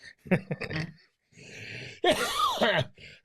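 A person's coughs during a conversation, several short harsh bursts and throat sounds close to the microphone, mixed with brief vocal noises and pauses.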